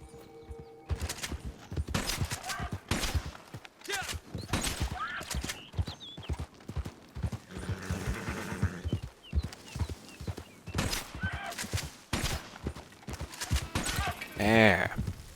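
Horse hooves clip-clopping while riding in the video game Red Dead Online, a steady rhythmic trot running throughout with scattered game sounds mixed in.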